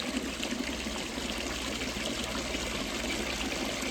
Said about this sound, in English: It shows just how much water is coming out of all these ends and how much pressure this pump has.